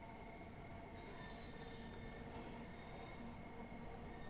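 A Class 465 electric train runs between Dartford and Faversham in Train Sim World 3, a steady low rumble of wheels on track with a faint squeal and traction whine, heard from inside and held at an even level.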